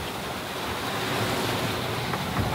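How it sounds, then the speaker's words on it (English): Big ocean swell washes around a sailing boat with its engine off, a steady close roar of surf mixed with wind buffeting the microphone, no voices. "Oh, there's a wave that was higher than your head then."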